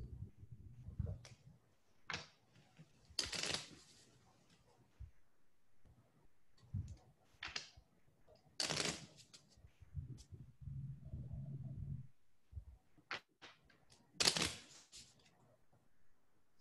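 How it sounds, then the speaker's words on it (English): Gloomhaven board game cards shuffled at a table, heard as three sharp riffling bursts spaced several seconds apart, with softer handling and shuffling noises in between. "Oh, I got to shuffle."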